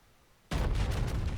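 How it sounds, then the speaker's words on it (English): The battleship USS Texas firing its guns in the game World of Warships: after a quiet moment, a single sudden heavy blast that rolls into a loud, sustained rumble. "because this ship has so many guns, if you don't fire them, all at once"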